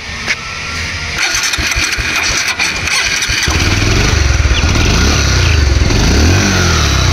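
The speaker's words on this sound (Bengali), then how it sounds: "তো গাড়িটা এখন স্টার্ট করে সাউন্ড কন্ডিশন দেখাবো" A 2019 Bajaj Pulsar 150 single-disc motorcycle starts up loud and close, its cranking followed by the engine catching into a steady, throbbing idle.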